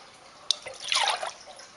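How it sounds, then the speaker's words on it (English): Milk being poured into a glass for homemade eggnog, a short sharp splash followed by a brief trickling, gurgling pour, close and fairly quiet with no talking. "First, pour the milk into the glass."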